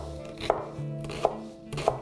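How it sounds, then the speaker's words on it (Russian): Carrot being chopped finely with a knife on a board for goose and kale soup, three sharp, evenly spaced knife strikes standing out clearly over a low background hum. "Достаточно мелко покрошу"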